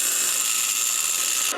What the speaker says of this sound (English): So I'm just going to grind it down a little bit on my grinder.